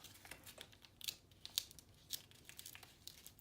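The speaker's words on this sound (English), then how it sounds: "And we're going to peel back" Transfer paper peeling back from vinyl in a Cricut craft project, heard as a run of close, crisp crinkles and small tearing snaps arriving in irregular bursts, with no speech.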